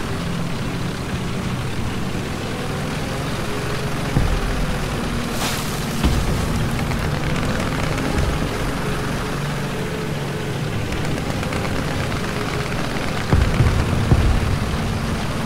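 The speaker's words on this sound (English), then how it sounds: "We got bombing going on." Bombing in the War Thunder combat game, with a few dull booms rising out of a constant loud engine-like rumble over about fifteen seconds.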